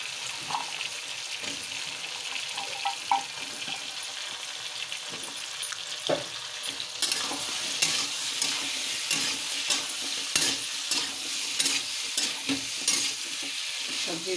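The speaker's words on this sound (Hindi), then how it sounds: "अब इसमें सारी सब्जी डाल देंगे।" Vegetables for sambar sizzle and fry in a pan while a spoon stirs them, producing a steady crackling hiss broken by scraping and clinking strokes, close and moderately loud, with no voices.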